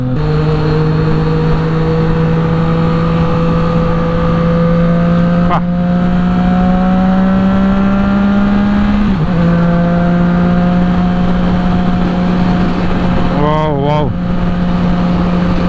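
A Triumph Trident motorcycle fitted with an aftermarket exhaust drones loudly and steadily as it rides, its pitch slowly rising and then dipping briefly before a short burst of revving near the end.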